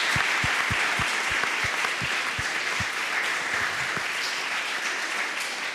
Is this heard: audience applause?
yes